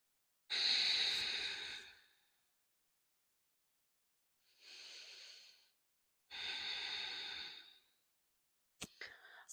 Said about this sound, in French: 2 cycles de respiration Ujjayi.